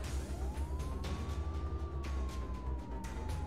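A video game police siren wails steadily in one long rising and falling tone over a low engine rumble, with faint clattering in the background.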